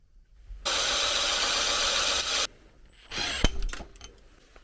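A power drill, set in the wrong gear, whirs steadily for about two seconds while driving a homemade pipe bender, then cuts off, followed by a few clunks and a short rattling burst.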